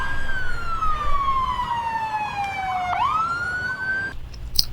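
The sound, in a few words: police car siren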